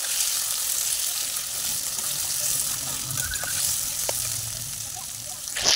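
Marinated chicken sizzles steadily in a hot pan on a rainy day at home, a continuous close frying hiss with a few soft stirring knocks and faint background sounds.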